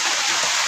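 Heavy rain pours down in a dense, steady hiss, loud and close, with no voices over it.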